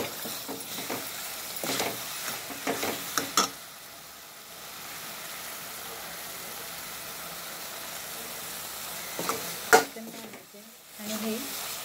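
Chicken goes into a hot pan with some reserved water for a spicy coconut-style curry, giving a few clattering stirs and scrapes at first, then a soft, low frying hiss, with another clink near the end.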